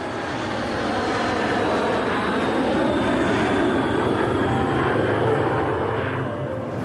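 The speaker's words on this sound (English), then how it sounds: "here she comes, the 787 Dreamliner" A Boeing 787 Dreamliner jet with Rolls-Royce engines on its first flight roars steadily and loudly overhead, a broad continuous engine rumble swelling and then easing slightly as it passes.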